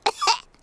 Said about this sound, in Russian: У меня кашель.